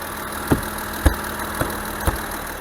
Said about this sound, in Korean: 지금 6기통 엔진 소리만 살짝 들리고요.